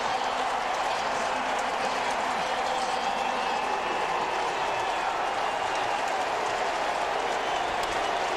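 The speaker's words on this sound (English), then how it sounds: "Listen to this crowd." A huge football stadium crowd roars at halftime of the Tennessee versus Arkansas game, a steady, dense wall of cheering and applause that holds at full volume throughout, with no voices standing out.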